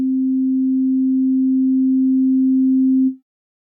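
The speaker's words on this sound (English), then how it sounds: "we'll move on to sinus wave, kind like the DX7 Basic FM" A pure sine-wave tone from a Yamaha Montage M synthesizer holds one steady, low pitch for about three seconds, then stops abruptly, with no harmonics and no voices.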